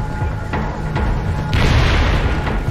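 A natural gas pipeline explosion in central Mexico rumbles as a loud, sustained roar, with several heavy booming surges rolling through the continuous blast noise.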